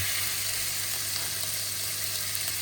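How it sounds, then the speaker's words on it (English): Chicken thighs sizzle steadily as they brown in a hot pan, a close, continuous hiss and crackle of frying with no voices. "We're going to get all those thighs in there, and we're going to brown both sides."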